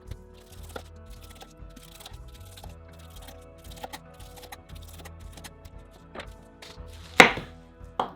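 A knife chops through a whole pineapple, cutting off the top and bottom. Close, irregular thuds and crunchy cuts come throughout, with a louder, sharper cut near the end and no talking.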